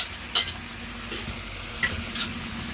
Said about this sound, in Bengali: এখন এই ফুটে যাওয়া মশলাটির মধ্যে আমরা ভেজে রাখা মাছগুলো দিয়ে দেব